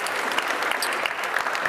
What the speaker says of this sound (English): I see Joseph Mancinelli leading the applause on that